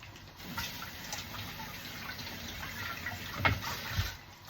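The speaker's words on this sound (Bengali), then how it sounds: "এই ফাঁকে আমি হাতটা ধুয়ে নিলাম" Hands are rinsed under a running kitchen tap, a soft continuous splash of flowing water at modest level with a few louder bursts as the hands move through the stream, no voices.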